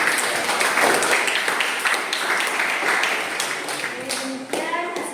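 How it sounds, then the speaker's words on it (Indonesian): Audience applause for a presenting group at an Indonesian teacher-training session, a steady wash of many hands clapping in a room that thins out toward the end, with voices murmuring underneath. "berikan aplaus kepada Kopassus"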